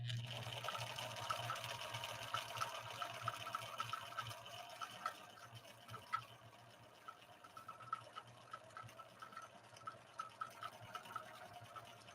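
A Viking 6020 sewing machine stitches a final decorative pattern, giving a steady low motor hum with a fast, even ticking of the needle running continuously throughout, with no talking.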